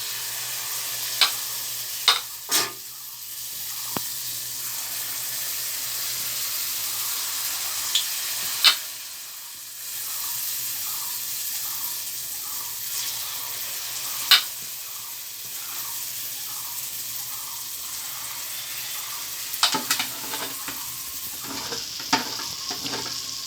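Hand-dropped mango fritter batter fries in hot oil, a continuous sizzle and bubbling with repeated small clicks and splashes as each dollop goes in, fairly quiet and close.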